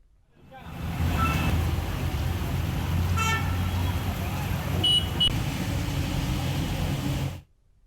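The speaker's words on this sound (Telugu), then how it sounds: "హైదరాబాద్లో పలుచోట్ల భారీగా ట్రాఫిక్ జామ్ అయింది" Traffic jammed on Hyderabad streets in a heavy downpour produces a steady, loud roadway roar with idling engines, while a couple of car horns toot briefly partway through.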